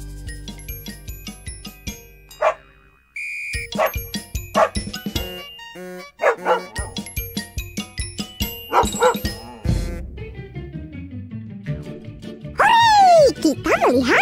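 A dog barks in a series of short yaps within a busy cartoon soundtrack, mixed with bright jingles, chimes and music that run over and under the barks.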